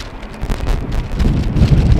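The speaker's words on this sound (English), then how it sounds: "so there's crosswind from the left for these airplanes. You might hear it as well on the video, on the stream." Gusty crosswind buffets an outdoor microphone at Amsterdam Schiphol Airport during showery weather, a loud continuous low rumbling roar that surges and dips over two seconds.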